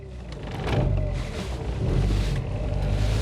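A Volkswagen Polo Mk3 6N2 with a 60-horsepower 1.4-litre petrol engine pulls away, its low engine drone and road rumble swelling gently from inside the cabin with no talk.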